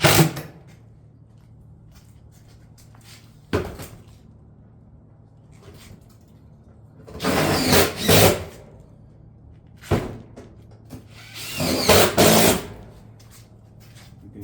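Bursts of sharp banging and clattering while cottage shingles are fastened on a roof during installation, single knocks spaced apart and two longer clusters of rapid impacts, fairly close with quiet gaps.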